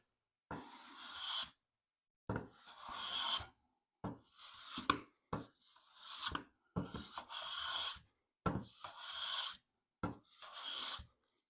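A hand plane taking fine cuts across interlocking-grain wood, giving seven or eight quiet rasping strokes about a second long each, with short silent gaps between them, close up and soft.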